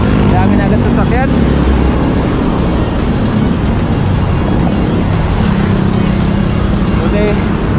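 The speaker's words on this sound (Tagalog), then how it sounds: "Dami na agad sasakyan." Steady roadway roar of many cars passing close by an overpass on a bike commute, continuous and loud with occasional tire hiss, plus a voice talking briefly over it.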